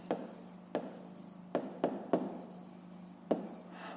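Someone writes by hand in a quiet room, with a series of six or seven short, close scratching strokes at uneven intervals and no voices.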